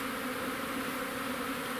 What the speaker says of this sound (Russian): Первый очистительный облет пчел.